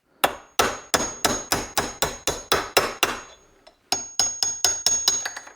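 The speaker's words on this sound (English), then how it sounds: "So first off, we need to remove the bushing. I'm just using a socket to drive it out." Socket hammered against a starter motor bushing from a Volvo BM 500, a steady run of about a dozen sharp metallic strikes, a brief pause, then another quick series of blows, close and loud.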